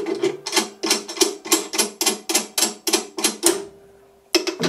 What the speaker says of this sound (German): dann mache ich hier die Schrauben auf